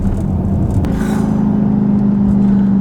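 A Dodge 6.4L naturally aspirated V8 muscle car, Charger or Challenger, with an upgraded exhaust, rumbles at a steady deep drone, loud and close, holding an even throb throughout with no voices.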